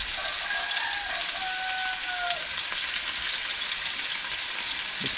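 Salted white-stemmed vegetables sizzle in a hot pan while being stirred, giving a steady, dense crackle up close, with faint brief squeaks of utensil on pan early on.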